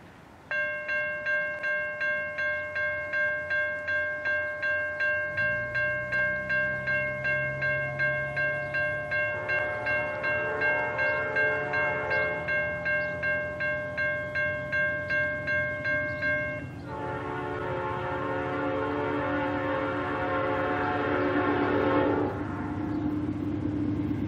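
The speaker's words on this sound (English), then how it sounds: "about 20 minutes later, here came this NS manifest train heading towards the crossing." An NS manifest freight train nears a rail crossing, sounding a loud, sustained multi-tone horn in repeated long blasts over a steady rolling rumble of wheels and cars that grows heavier as it approaches.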